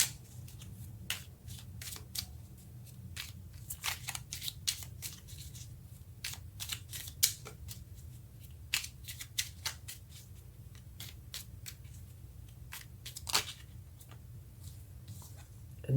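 Tarot cards being shuffled close up, a steady run of soft, crisp riffles and flicks scattered across the clip at an uneven rhythm over a low background hum.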